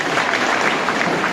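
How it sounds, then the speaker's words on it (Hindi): Audience applause at a Hindi kavi sammelan poetry recital, honoring a performer: a dense, loud, even wash of many clapping hands that holds steady throughout. "एक बार हमारे श्याम भैया के लिए थोड़ी तालियां देंगे"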